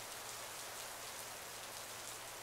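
Steady rain falls in the Roblox game ER:LC, a dense, even hiss of drops spread across the clip with no break, heard alone without voices.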